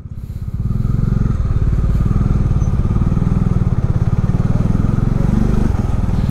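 Motorcycle engine idling and running close by in a cold pilgrimage town while searching for bike parking near a temple, a steady loud rumbling throb after a brief quieter start, with no talking.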